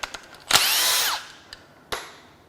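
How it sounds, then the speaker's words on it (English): A power tool zips out timing cover bolts on a recalled Nissan/Infiniti VC-Turbo engine. One loud whirring burst of just under a second is followed by a couple of brief, sharp mechanical clicks. "Now I'm going to start zipping out timing cover bolts in ascending order"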